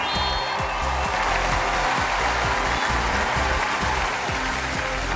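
A studio audience at a Chinese talent show applauds as two performers of shoulder ballet are welcomed onto the stage, a continuous loud roar of clapping that fills the whole stretch, with a faint voice beneath it.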